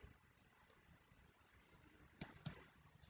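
A computer mouse clicks twice in quick succession while applying a watermark setting in Microsoft Word, two close, crisp taps over a quiet background.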